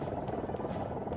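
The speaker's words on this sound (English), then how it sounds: "the gurney being flown down by the air vac helicopter right now" An air evacuation rescue helicopter hovers nearby, lowering a gurney in a highway rescue, its rotor giving a dense, steady broadband roar that is loud and continuous with no voices.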